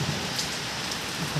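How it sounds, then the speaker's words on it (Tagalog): Heavy rain pours down steadily outside, a dense, even hiss of drops striking surfaces close by, with no voices. "Lakas ng ulan dito."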